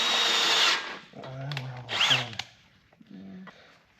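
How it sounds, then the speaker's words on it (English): A power drill bores holes while a boom is installed on an offroad wrecker, with a sustained whine followed by shorter starts and stops, close and fairly loud with no speech. "My least favorite thing in the world, drilling holes, I think."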